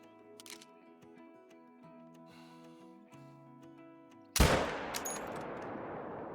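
A single sharp rifle shot cracks out in a hunting video game, aimed at a ram, after a quiet stretch of musical tones, with a loud onset and a rolling echo decaying afterward.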